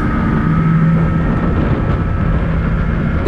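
A bass boat engine runs steadily while the boat turns, a continuous loud rumbling drone with a faint higher tone above it, out on rough wind-blown water.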